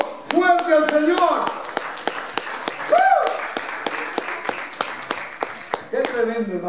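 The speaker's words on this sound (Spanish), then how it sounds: "¿Cuánto le da un aplauso fuerte al Señor?" Worshippers at a Pentecostal church service clap in a steady, regular rhythm, each sharp clap evenly spaced, while a voice speaks and calls out over the beat.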